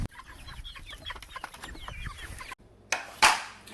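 Hens on a farm cluck in a busy, overlapping chorus, close by, with soft murmuring calls and a couple of louder squawks near the end.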